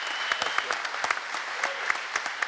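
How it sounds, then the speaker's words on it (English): Audience applause at a tribute event, a steady patter of many hands clapping, moderately close and even throughout. "Special round of applause to Mr. Gary McKechnie for doing all this work."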